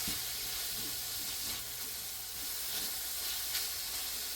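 Chicken frying in a pan as it finishes cooking for a cheesy chicken and rice dish, giving a steady, close sizzle and hiss with occasional brief crackles, continuous throughout with no talking.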